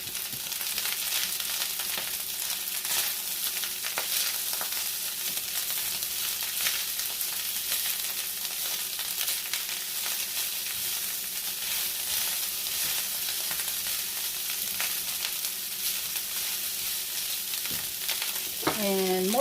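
Six Spam slices fry in a pan with a loud, continuous crackling sizzle that holds steady throughout, close up, with a brief clink near the end.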